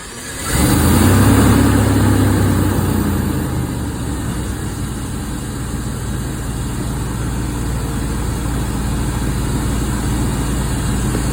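A car engine idles steadily at roughly 800 RPM during a vacuum test, a low continuous hum that swells briefly near the start and then settles into an even, close drone with no talk.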